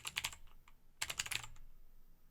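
Fast typing on a computer keyboard comes in two quick bursts of close, crisp key clicks separated by a short pause, fairly quiet with no voices.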